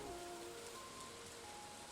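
Steady rain from the video game Stardew Valley, a soft, even hiss of falling drops that holds without a break, with a few faint game tones drifting over it.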